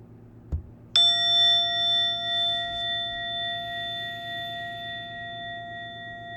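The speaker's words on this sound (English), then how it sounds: "In a moment, you will hear a bell or a chime. Listen to it as it gets quieter and quieter." A single bell or chime struck once, ringing with a clear sustained tone that slowly fades over several seconds above a faint background hum.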